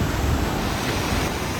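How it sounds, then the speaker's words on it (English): Powerful water rushing down from a reservoir pressure relief valve, a loud, steady roar of turbulent flow with some wind buffeting, continuous and close. "There's a pressure relief valve, look, to the reservoir. But you get some powerful water coming down there sometimes."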